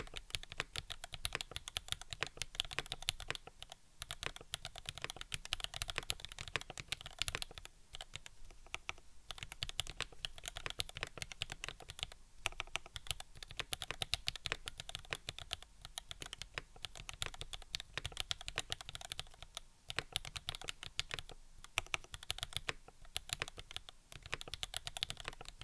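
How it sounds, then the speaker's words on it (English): Rapid, uneven clatter of keys being typed on a computer keyboard, close and fairly quiet, continuing with brief pauses and no voices. "I'm giving up on typing for tonight"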